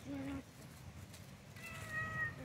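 Cats meow at an adoption setting: a short mew near the start and a higher, longer meow later, both close, over a low background murmur and faint voices.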